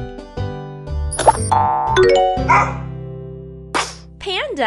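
A cartoon dog barks in a children's animal-learning game, a few short bright yaps set among playful music and chimes and sound effects, with a voice speaking nearby.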